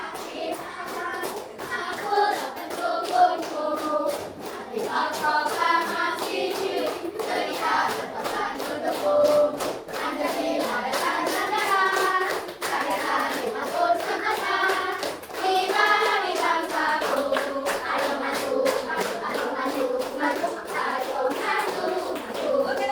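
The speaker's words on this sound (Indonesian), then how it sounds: "Ayo sama-sama sambil tepuk tangan ya." A group of children claps steadily in rhythm while singing the Indonesian patriotic song Garuda Pancasila in a classroom. The claps are loud and continuous and carry over the singing voices for the whole stretch.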